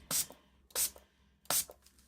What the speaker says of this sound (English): I'm going to give these each a spray,